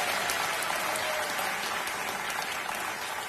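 Steady applause from a game show studio audience, a dense wash of clapping that holds throughout without a break.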